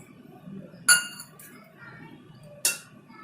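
A spoon clinks sharply against a bowl twice while chicken pakoda marinade with ginger garlic paste, lemon juice and curry leaves is mixed, with soft scraping between the clear, ringing taps.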